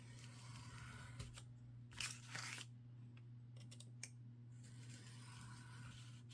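A blade cuts through a stack of mini journal pages all at once, giving a few soft, close scraping and crunching strokes over a low steady hum, with no talk.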